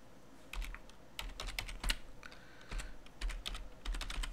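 Rapid keystrokes on a computer keyboard as a gnome-disks command is entered in a terminal, clicking in quick uneven bursts, close and clear with no talking.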